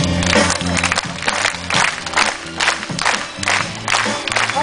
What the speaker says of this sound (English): Face the audience and get everyone to clap with you